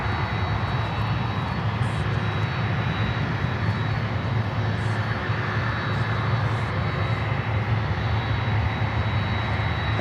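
An American Airlines jet airliner arriving at Miami airport gives a steady, loud engine roar with a broad rushing hiss, sustained without letup and no voices.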